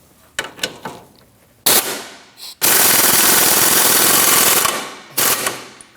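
Power tool tightening strut bolts on a 2009-2017 Audi Q5: a few short rattling bursts, then a long sustained hammering run of about two seconds, followed by one more brief burst, loud and close.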